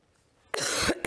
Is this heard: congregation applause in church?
no